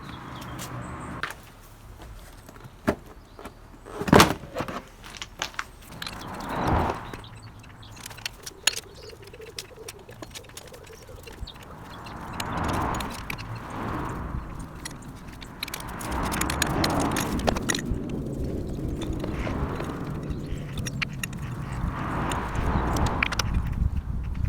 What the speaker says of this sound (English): we're going to remove this device, the EGR valve